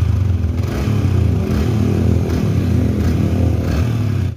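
A 2018 Yamaha Vixion LED motorcycle engine revs up close, a loud, continuous buzzing roar with slight rattling and no talking until it cuts off at the end.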